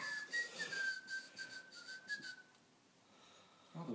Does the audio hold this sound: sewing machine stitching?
no